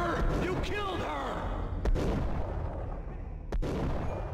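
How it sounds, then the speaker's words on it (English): Gunfire in the Max Payne video game, two sharp heavy shots a couple of seconds apart over a rumbling game soundscape, with a voice speaking early on. "Oh, you're shooting at me? You're missing."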